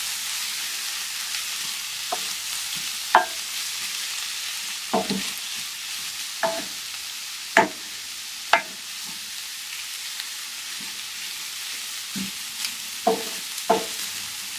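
Salami frying in a pan with a steady soft sizzle throughout, broken by occasional sharp pops and spatters at irregular intervals, fairly close, with no talk.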